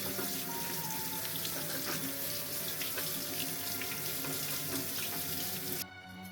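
Tap water runs steadily into a sink while yuzu fruit is rinsed under it, a continuous close splashing hiss that cuts off near the end.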